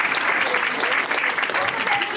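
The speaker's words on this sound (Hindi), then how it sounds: "एक बार ताली बजा दो मीरा बहन ने।" A crowd at a Christian worship gathering claps steadily in a dense, continuous round of applause, with faint voices mixed in beneath it.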